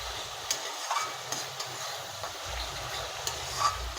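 Soybean and potato curry being sautéed in melted meat fat: a faint, steady sizzle with a few soft stirring knocks against the pan, heard alone at low volume.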